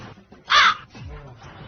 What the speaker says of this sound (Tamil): காக்கா சாப்பிட்டு இருக்கு சார்.